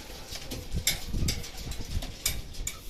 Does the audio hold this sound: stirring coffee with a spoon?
no